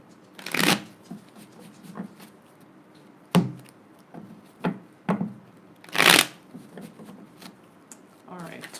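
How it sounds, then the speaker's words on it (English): Tarot cards being shuffled by hand give several sharp riffling bursts and soft slaps at irregular intervals, close and clear. "couple more shuffles and I'll begin"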